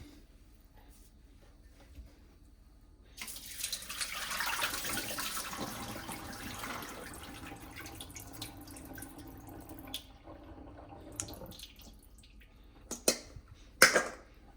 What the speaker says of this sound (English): So for the chickpeas, I'm just going to give it a wash before cooking.